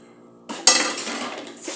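Dishes being washed at a sink, with plates and cutlery clanking and clinking loudly up close after a quiet start, followed by continuous rattling and scraping of tableware.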